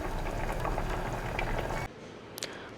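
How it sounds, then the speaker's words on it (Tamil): A pot of mixed vegetable kuzhambu curry made for Pongal boils with a dense, steady bubbling hiss that suddenly cuts off, leaving quiet room noise and a faint clink. "நல்லா கொதிக்குது"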